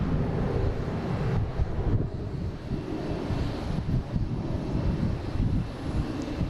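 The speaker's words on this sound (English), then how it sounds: "we got a JetBlue taking off here" A JetBlue airliner takes off from an airport bound for San Diego, giving a steady, broad engine roar with wind noise buffeting the microphone throughout.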